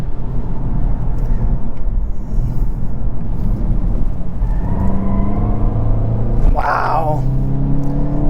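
A 2022 VW Golf GTI S Mk8 on all-season tires carries speed hard through a corner, its engine droning steadily under constant road rumble and tire noise, with a brief tonal whine near the end as it powers out.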